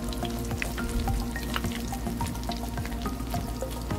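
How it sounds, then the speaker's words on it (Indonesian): Bread croquettes made from white bread fry in hot oil until browned, giving a steady, close, dense crackling sizzle with scattered pops throughout and no talking. "goreng roti tawar kroketnya hingga kecoklatan"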